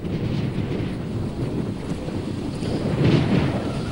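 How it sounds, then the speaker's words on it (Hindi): Strong, gusting wind roars during a dust storm in the Akshardham area of Delhi, a loud continuous rumble buffeting the microphone and swelling near the end, with no voices heard. "अब इतनी तेज हवा है"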